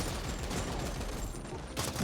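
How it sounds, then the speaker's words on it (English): Gunfire from turrets and guns in the video game The Ascent, a dense, continuous barrage of rapid shots with no pauses, steady and fairly low in level throughout. "I do love the sound effects of the guns"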